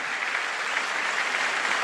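An audience in a church applauds steadily, a dense even wash of clapping that holds at the same level for a couple of seconds with no voices over it.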